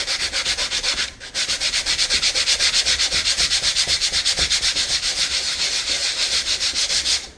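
Steady, rhythmic scratching of sandpaper rubbed back and forth by hand, close and continuous, with a brief pause near the start.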